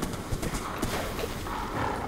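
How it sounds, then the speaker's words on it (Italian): Horse in the Minecraft video game, heard as a brief run of clip-clopping hoof sounds against a steady, dense background of in-game ambience, moderately loud and without clear speech. "c'era un, un rumore di un cavallo"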